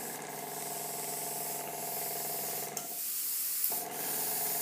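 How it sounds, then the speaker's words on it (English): Airbrush spraying paint colour across artwork, a continuous close hiss of air that breaks off briefly twice and resumes, alone without talk. "I'm also going to drop my airbrush down"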